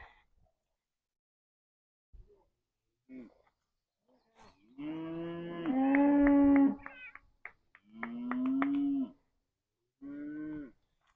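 Beef cattle being moved during a rotational grazing setup give several loud, drawn-out moos, nearby, separated by short silences and some faint background noise.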